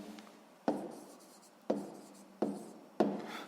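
A pen on paper writes out a sixth-grade math solution in a quiet room, with four distinct tap-and-stroke bursts that each fade gradually into soft scratching.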